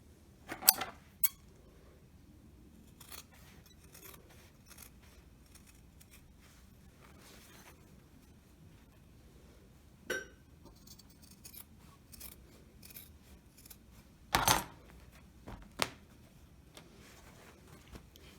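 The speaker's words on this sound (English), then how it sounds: "Now I'm going to take my pair of scissors." Scattered snips of scissors cutting fabric for a tote bag, a few sharp close cuts spaced out over a quiet background with occasional soft handling sounds.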